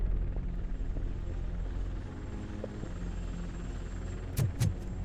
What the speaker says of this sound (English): That's a TV helicopter.